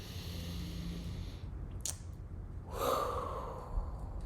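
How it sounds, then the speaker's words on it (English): A single slow, deep intake of breath during a calm guided relaxation, soft and close, rising to a fuller airy draw near the end with no talking. "let's take a deep breath in."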